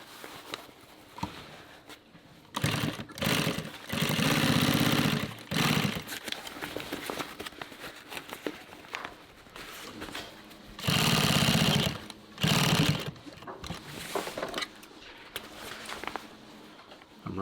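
A sewing machine stitches a helmet bag in short, loud bursts of rapid mechanical running, separated by quieter pauses with faint handling noise and no talking.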